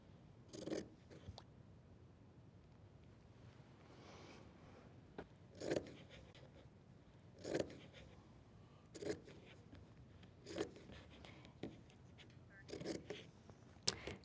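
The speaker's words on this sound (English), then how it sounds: "Now, if you cut on top of the other piece, it's okay." Scissors snip through fabric while a pillow is cut out for a kids' craft, a series of sharp, quiet cuts spaced a second or two apart against a near-silent background.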